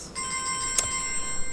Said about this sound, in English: I'm sorry, let me just switch my phone off.